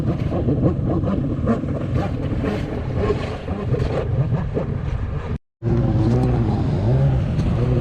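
A two-stroke freestyle jetski engine running steadily at half throttle, a loud close droning roar with a brief cut-out before resuming and slightly shifting pitch.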